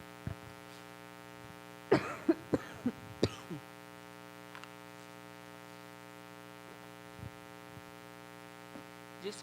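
A woman pastor coughs during a sermon as an after-effect of Covid: a tight cluster of four or five sharp coughs, then a few fainter ones, over a steady electrical hum.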